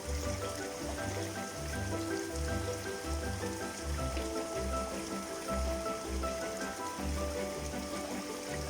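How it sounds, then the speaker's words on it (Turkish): Rushing water at Sorkun waterfall in a canyon near Sinop, Turkey, a constant broadband roar and hiss of falling water, close and loud, with irregular low rumbling pulses. "Burası Sorkun Şelalesi."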